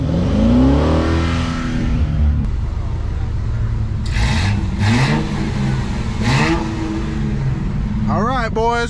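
A car engine revving at a car meet on Bristol Highway in Tennessee, loud and close, with rising blips over a constant idle rumble, while people talk over it.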